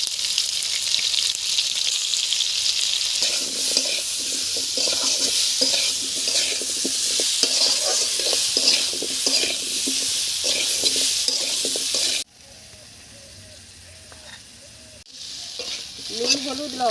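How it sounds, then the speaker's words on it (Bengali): Potatoes fry in hot oil with a constant crackling sizzle while a spatula stirs and scrapes the pan in rapid, repeated strokes; the sizzle drops sharply near the end, then rises again. "তেলে আলু দিলাম, আলু দিয়ে দিয়েছি।"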